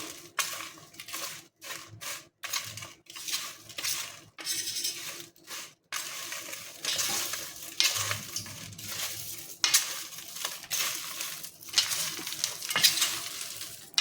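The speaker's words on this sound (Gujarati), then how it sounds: "તો હવે આપણે સરસ અહીંયા મિક્સ કરી લઈશું" Spiced farali chevdo, a dry fasting snack mix, is stirred and tossed in a pan, a spoon scraping and rattling in quick irregular strokes, close and busy with brief pauses.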